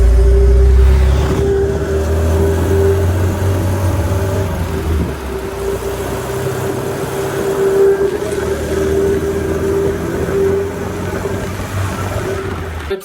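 Restored MGB GT classic car on the road, a loud, steady engine drone with a strong low rumble and a constant mid-range hum, easing a little after the first few seconds.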